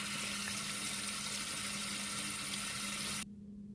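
Tap water runs steadily into a sink while peeled potatoes are rinsed, a close, even hiss and splash that stops abruptly near the end.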